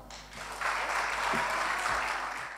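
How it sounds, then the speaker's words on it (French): An audience breaks into a thunder of applause for a person being introduced on stage, dense clapping that swells in after a brief lead-in and holds loud and steady before tapering slightly. "Je vous demande un tonnerre d'applaudissements à Omar Brada."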